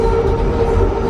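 Train running on the Cleveland Waterfront Line's rail track through a tight concrete-walled passage, producing a steady, loud rumble with a sustained tonal whine, close by and continuous, with no talk.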